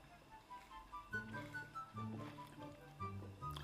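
Water poured in short splashing bursts at a rice and chicken kurma meal, a liquid gurgle with rising fill tones, close and fairly quiet.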